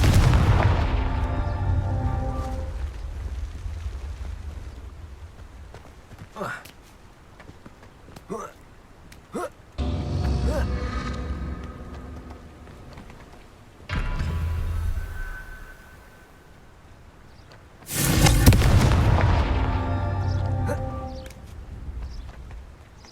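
Confringo blasting spells explode in Hogwarts Legacy, loud booming bursts several seconds apart that each ring out and fade, with a voice speaking between them.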